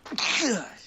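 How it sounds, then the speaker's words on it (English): A single sharp human sneeze, a quick inhaled catch followed by a bright, breathy burst that trails off in under a second. "Oh, bless you."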